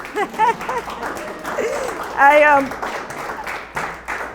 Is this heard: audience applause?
yes